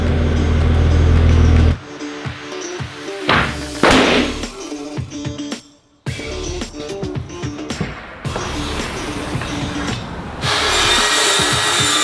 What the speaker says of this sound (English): Let's start cladding the area out with some yellow tongue.